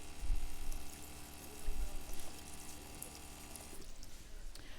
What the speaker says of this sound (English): Rinse that off real quick.